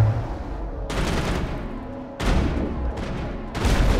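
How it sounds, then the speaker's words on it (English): Bursts of gunfire hit Geth in Mass Effect, with three loud, crackling volleys arriving one after another. Each sharp onset trails into a ragged decay over a low background rumble. "he's shooting up some Geth here"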